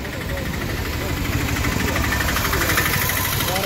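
Traffic engines at the Lavi fair in Rampur Bushahr, a steady dense rumble of idling and creeping vehicles throughout, with faint voices and crowd noise mixed in.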